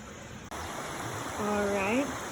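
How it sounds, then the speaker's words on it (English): A river flows nearby in Tennessee woodland, a steady broadband rushing wash under a brief voice-like tone, moderately loud and continuous. "it is loud because of the river there"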